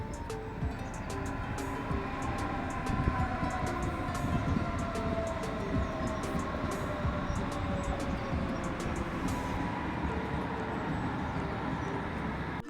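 A train at a railway station close to home, heard as a steady, loud rumbling roar with faint tonal whines running through it for the whole stretch, with no talking.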